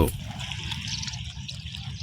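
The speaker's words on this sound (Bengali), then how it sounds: "নদীর পানির কুলকুলানি শব্দ এবং" River water gurgles and trickles at an eroding bank near a char, with a steady, moderately close, bubbling flow.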